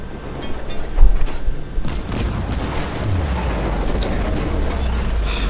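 Warship main guns boom in World of Warships during a fight against several ships, with one heavy report followed by a steady rumbling barrage and mechanical noise under the game's ambience.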